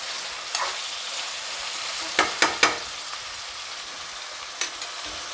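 A spoon stirs food in a pan during cooking, a soft scraping with a low sizzle beneath, broken by a few sharp clinks against the pan, then a quieter stretch before one more knock near the end.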